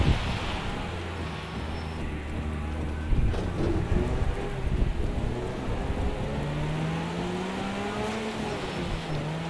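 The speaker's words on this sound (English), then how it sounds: "Check out the rain." Steady rain pours over a rallycross race in Project Cars 2 played in VR, a continuous wash of hiss with a car engine droning and shifting pitch underneath, without talk.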